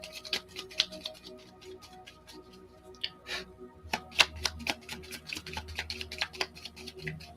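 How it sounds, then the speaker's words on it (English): Crisp riffling and snapping of tarot cards being shuffled, several bursts of flicks with short pauses, close and fairly quiet. "I'm gonna shuffle one more time,"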